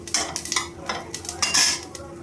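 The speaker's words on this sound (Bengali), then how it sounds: "এখানে আমি ইলিশ মাছ ভাজার তেলের মধ্যেই আমি ফোড়ন দিয়ে দিচ্ছি।" Black cumin seeds and dried chili temper in leftover hilsa-frying oil in a kadai, heard as light sizzling beneath irregular clinks and scrapes of a spoon against the pan, close and moderately quiet.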